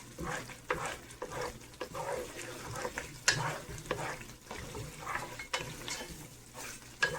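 Mutton pieces for bhuna gosht sizzling in a pan while a spoon stirs and scrapes them, with steady frying hiss and repeated clinks and scrapes against the pot, close and fairly quiet.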